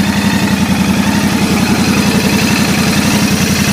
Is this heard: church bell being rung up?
no